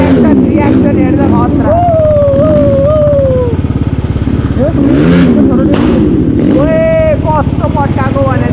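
A motorcycle revs on a street in Lamahi bazar, its exhaust misfiring with a few sharp pops over a steady engine drone, while voices talk over it nearby.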